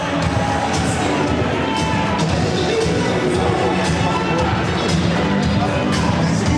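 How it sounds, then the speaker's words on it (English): A wrestling crowd pops with cheers and shouts as a big wrestler goes over the top rope, a steady roar of arena noise that holds throughout. "He got a crowd pop just from going over the top rope."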